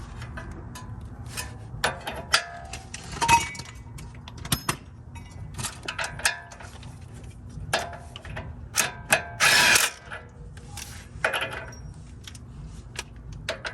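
A ratchet cranking an outer castle nut onto a tie rod of a third-generation 4Runner, bursts of quick metallic clicks at close range with clinks and handling noises between them, plus a louder burst near the end.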